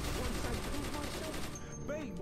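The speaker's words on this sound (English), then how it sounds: "That's that new chain gun power there." A rapid burst of chain gun fire in the video game DC Universe Online, with quick repeated shots rattling together for about a second and a half before trailing off.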